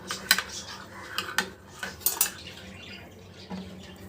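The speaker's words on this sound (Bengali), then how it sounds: "দুধটা দিয়ে ভালো করে দইটা মিক্সড করে দেবো" A spoon clinks and scrapes in a bowl as milk is stirred into yogurt to set homemade sour curd, a few sharp metallic taps followed by softer swirling, close and fairly quiet.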